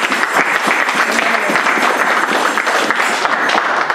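A church congregation applauds steadily and loudly throughout, with dense, continuous clapping and a little crowd noise mixed in.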